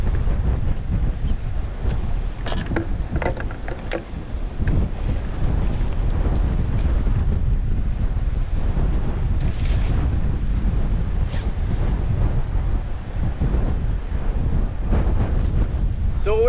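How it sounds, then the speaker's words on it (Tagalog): Strong wind at sea buffeting the microphone on a fishing boat, a steady loud roar with waves and hull noise beneath it, continuous throughout. "Yeah, too windy."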